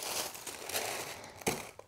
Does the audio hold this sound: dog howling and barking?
no